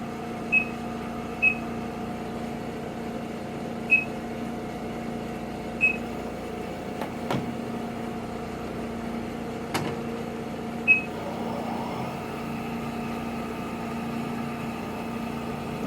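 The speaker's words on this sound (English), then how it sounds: "This is fast acceleration." A Cee 100CB spin coater runs fast up to 3000 RPM, giving a steady motor hum with a few faint clicks and beeps over it, close by and with no talking.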